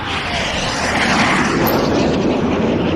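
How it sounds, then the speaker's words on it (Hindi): A loud, steady roar of an aircraft engine passing overhead, filling the whole clip with a broad rushing drone and no voices. "ओह, पुष्पक विमान की आवाज।"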